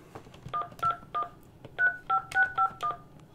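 Telephone keypad dialing tones ring out as a phone number is entered: about eight or nine short, distinct beeps in an uneven sequence, fairly quiet, with no voices.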